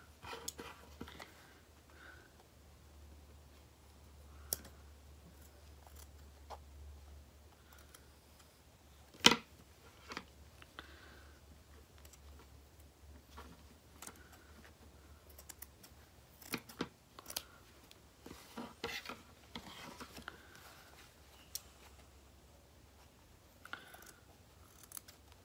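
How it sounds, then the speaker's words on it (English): Scissors trimming fabric for a homemade country Christmas ornament, quiet and close with sparse snips and small clicks, one sharper snip standing out, in a calm room. "Cut your fabric while you're doing it."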